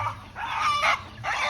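Chickens on a farm giving loud, close clucks and squawks in several short bursts, with a rooster-like crowing quality.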